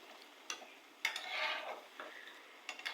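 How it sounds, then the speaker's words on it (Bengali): Bare hands mix oil, onion and whole garlic cloves together in a bowl, making soft, wet squishing and stirring sounds. A few quiet clicks come in irregular bursts, close and faint. "সবগুলো উপকরণ একসাথে মেখে নিচ্ছি।"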